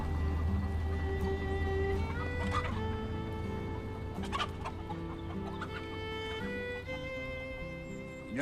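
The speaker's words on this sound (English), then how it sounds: "Notice how the rooster takes care of the chickens?" A rooster and a flock of chickens cluck and call on a farm, layered harmonic squawks and clucks overlapping continuously, fairly close, with no talk.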